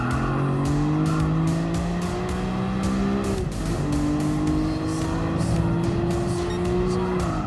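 Nissan R34 Skyline racing in Gran Turismo Sport, its engine holding a loud steady high-revving tone, dipping once as it shifts and climbing again, with tire squeal and other cars close by throughout.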